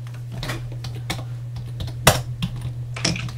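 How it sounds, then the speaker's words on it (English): Typing on a computer keyboard during a gaming session, irregular clicky keystrokes close by over a constant low electrical hum, one sharper louder key strike partway through, no voices. "we have to keep constantly typing"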